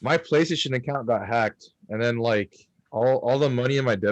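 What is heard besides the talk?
No everyday noise stands out behind the speech.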